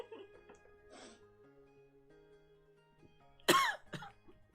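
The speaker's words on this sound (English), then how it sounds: "No, you're the one coughing." A single sharp, close cough rises out of a quiet room with faint background tones, followed by a softer trailing breath.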